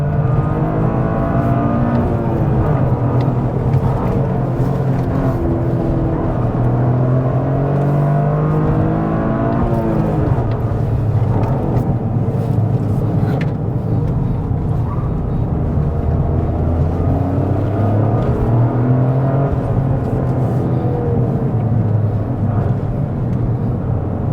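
Cars climbing a hill climb course, with a steady, loud engine drone and a shifting whir as several vehicles rev and pass continuously.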